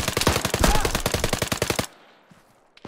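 Rapid automatic gunfire from a co-op military shooter game, a dense burst of shots lasting nearly two seconds, loud and close, then cutting off to near silence with a few faint clicks.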